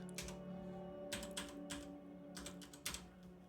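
Keys clatter on a computer keyboard in quick bursts during a gold-tracking session in a game, with short clusters of typing separated by pauses over a steady background hum.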